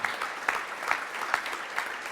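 A hall of fame ceremony audience gives a round of applause, dense steady clapping from many hands filling the hall with a few sharper claps standing out.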